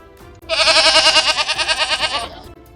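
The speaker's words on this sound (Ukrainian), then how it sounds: "живе кізонька зі своїми козенятами" A goat bleats loudly in one long, wavering call lasting about two seconds, close by in a farmyard with its kids, with faint background noise around it.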